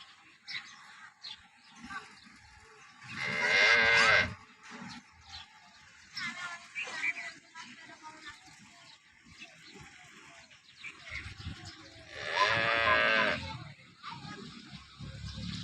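Local dairy cows on a Gujarati farm give two long, loud, drawn-out moos about ten seconds apart, close by, with faint voices and farmyard noise between the calls.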